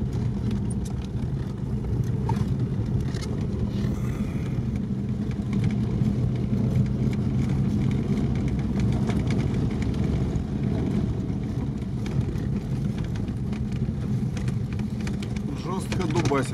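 A ZAZ 968M runs off-road with a steady, droning engine note that holds throughout, heard from inside the car. Constant road and body rumble sit underneath, and people talk in the background.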